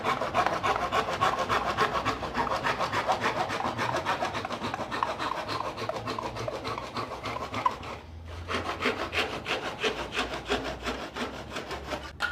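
A handsaw cutting wood flush while a wooden carpenter's square is being made, with fast, close, rhythmic rasping strokes that run almost the whole time and stop only briefly once.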